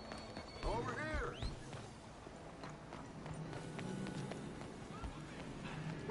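Horse galloping in Red Dead Redemption 2, rapid clip-clop hoofbeats at a steady pace, with a brief whinny near the start and voices over the ride.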